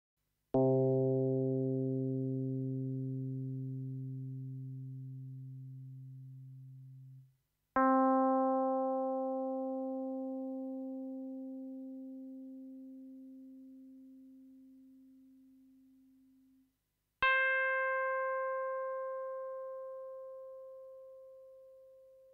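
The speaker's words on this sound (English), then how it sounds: "It produces a soft sustained tone of the electric piano." Three soft, sustained electric piano tones from a Yamaha DX7 FM synthesizer, using operators 3 and 4, sound one after another, each clean and slowly fading over several seconds, rising in pitch, alone and without talk.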